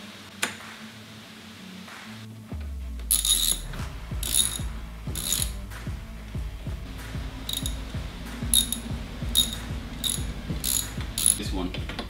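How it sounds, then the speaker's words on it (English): Nuts being unscrewed from the rear panel of a Genmax GM9000iED portable generator with a ratcheting tool, a rapid series of close, crisp metallic clicks coming in bursts with short pauses, no talking. "You gotta remove this nut right here and this nut right here."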